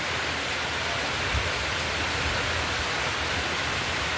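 Heavy typhoon rain pours steadily as a dense, unbroken roar, loud and close with no pauses, during a storm that is causing flooding.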